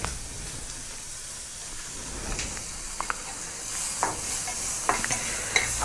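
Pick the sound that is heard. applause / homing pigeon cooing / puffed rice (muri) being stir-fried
puffed rice (muri) being stir-fried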